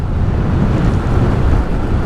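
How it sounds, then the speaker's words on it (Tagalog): Loud, gusty headwind buffets the microphone with a constant low roar while riding a Suzuki Let's scooter, close and unbroken throughout. "ang lakas ng hangin"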